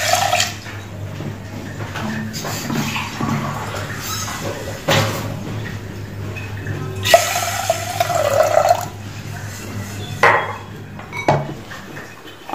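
Water pours and splashes into a metal pressure cooker, with clinks of cookware and a low steady hum underneath; no one speaks.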